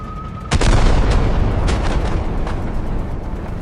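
Tank gun shot from a BT-2 striking a Ferdinand tank destroyer in a video game, one sharp loud blast with a long rumbling tail that fades slowly, with no talk.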